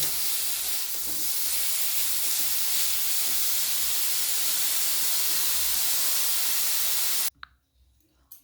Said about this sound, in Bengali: কপিগুলো আমি মিডিয়াম আঁচে খুব ভালো করে ভেজে নেব।